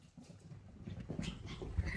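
A puppy whimpers and whines in short, soft bursts close by. They sit over low household rumble, with one brief thump near the end.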